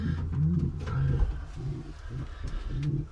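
Racing pigeons in a breeding loft coo close by, with soft repeated throaty warbling notes in short phrases over faint background rustle.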